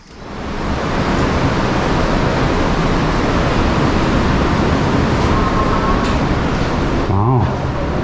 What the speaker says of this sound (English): Waterfalls in a cave.